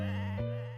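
A goat bleats once, a loud, close, drawn-out wavering cry lasting under a second, heard alone with no talking.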